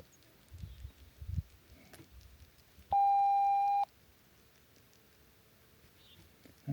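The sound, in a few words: phone making a beeping noise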